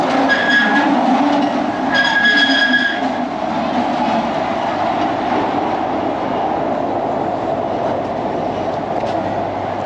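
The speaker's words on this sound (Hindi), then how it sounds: "बच्चों की ट्रेन।" A children's amusement train ride at Kallar Kahar rumbles steadily and loudly close by, with a bright whistle-like tone near the start and continuous rolling noise throughout.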